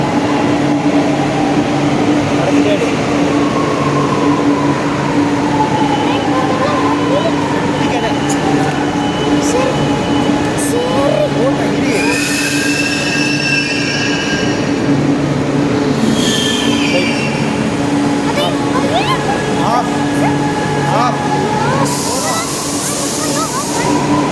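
Chennai metro train bound for Parangimalai arriving and running, a loud continuous rumble with squealing wheels and rising and falling electric whines, while people talk over it.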